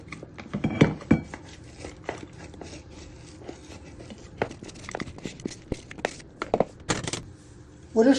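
A spoon pats and scrapes against a dish, pressing a buttery crushed biscuit base down into a thin layer, a string of irregular soft taps and clinks, close by, with a voice speaking now and then.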